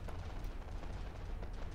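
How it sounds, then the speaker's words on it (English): Explosions and cannon fire in the naval combat game From the Depths, a dense continuous rumbling barrage of booms and blasts at steady loudness, with no pauses and no voices. "Oh, we blew something up."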